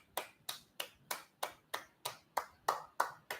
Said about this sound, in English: I want to give a round of applause to